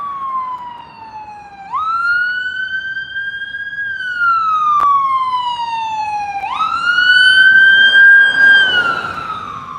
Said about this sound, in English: Every morning there's always some sort of damn siren.